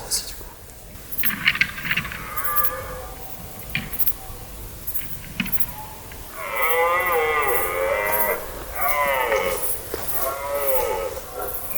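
A red deer stag bellows during the autumn rut in a forest, letting out several long, loud, moaning roars in the second half, each a drawn-out call with short pauses between. Quieter, scattered sounds come first.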